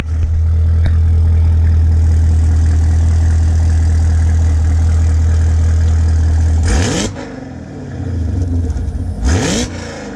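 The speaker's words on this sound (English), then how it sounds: "listen to that exhaust" A Chevrolet Camaro ZL1 with a Flowmaster exhaust idling close by with a deep, steady rumble, then two sharp throttle blips that rise and fall back to idle.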